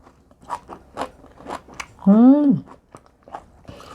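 Someone chews seasoned namul, a Korean vegetable side dish, with a few soft, rhythmic crunchy bites close to the microphone, broken by a brief hum or voiced sound in the middle.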